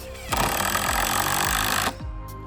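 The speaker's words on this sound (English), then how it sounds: "he is going to pre-drill before he puts the large screws in" A power drill whirs at high speed into wood for about a second and a half, close by, with brief mechanical clunks before and after.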